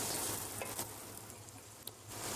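Rice, peas and chicken fry in butter and oil in a pan, stirred constantly. The sizzle is a steady close hiss with a few brief scrapes, and no one speaks.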